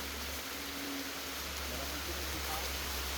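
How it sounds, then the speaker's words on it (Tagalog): Heavy rain pours down on a forest while people search for a wild root crop, a steady, dense hiss that fills the whole clip without letting up. "Inabot na tayo ng ulan. Umuulan na po,"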